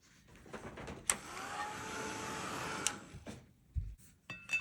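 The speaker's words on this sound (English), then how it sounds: "let me get out the heat tool and we'll dry this off" A heat tool blows a steady, moderate whooshing airflow to dry a watercolor painting, running for a few seconds with sharp clicks at its start and stop, followed by a few light handling knocks.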